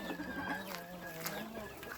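A flock of farmyard hens clucks and chatters nearby, several overlapping calls rising and falling, while a voice is faintly audible underneath.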